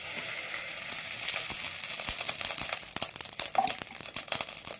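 Mustard seeds and fenugreek sizzle and crackle steadily in hot oil in a fish-curry pan, a dense close frying hiss with sharp popping seed bursts growing busier toward the end, no talking.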